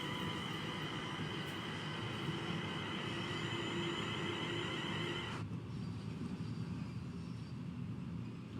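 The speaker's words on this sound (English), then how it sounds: "you can hear the engine in use." A train engine drones steadily as it is heard from inside a passenger carriage on the Trent Valley route between Crewe and Milton Keynes. The hum holds constant, then its tone drops partway through.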